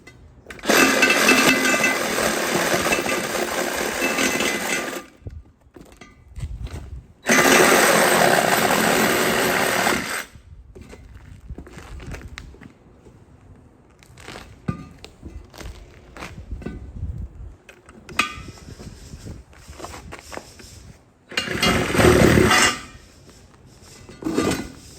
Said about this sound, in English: The valves wouldn't come out. Oh well, we just cut them off.